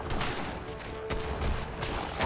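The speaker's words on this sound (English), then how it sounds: "Let's go with the short pipe revolver rifle." Short pipe revolver rifle fired in the Fallout 4 video game, a rapid cluster of sharp gunshots over busy combat noise, close and fairly loud across the whole moment.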